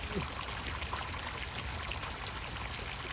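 Steady water flow churning and stirring beneath the surface in a tank, a continuous close bubbling rush with no breaks.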